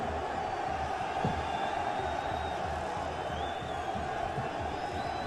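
A huge crowd roars steadily at an outdoor political rally in Kashebwe, a dense unbroken wash of cheering and shouting held at an even level from start to finish.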